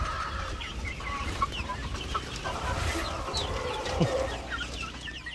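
Barred Rock chickens cluck and chatter nearby, with soft overlapping clucks, short squawks and small calls from several birds over a low background hum.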